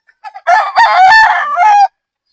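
Three-year-old Boston Gilmore gamefowl rooster crowing once, loud and close, a single drawn-out cock-a-doodle-doo lasting about a second and a half after a couple of short clucks.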